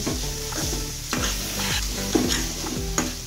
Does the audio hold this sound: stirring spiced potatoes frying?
yes